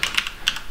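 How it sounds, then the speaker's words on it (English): Several quick keystrokes clack on a computer keyboard, close and crisp, in two small bursts with a short pause between. "you can do that by typing"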